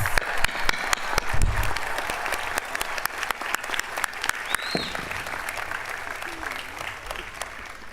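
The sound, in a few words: audience applause at a graduation ceremony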